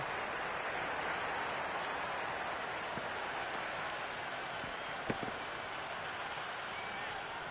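A big stadium crowd roars and cheers in a steady, dense wash during a Cricket 26 Ashes Test match, with faint sharp pops from the field cutting through around the middle.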